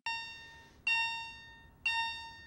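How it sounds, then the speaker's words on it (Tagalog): A hotel fire alarm goes off at night, sounding three long, bright electronic tones in a steady repeating pattern, each about a second long and fairly prominent, with no speech. "nagising si Charlotte dahil sa isang fire alarm"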